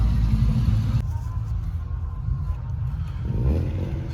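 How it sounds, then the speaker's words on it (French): A white Ferrari 308 at the Goodwood Revival gives a steady low engine rumble throughout, idling or running close by, with a slight swell in the final second amid background crowd noise. "Ferrari 308"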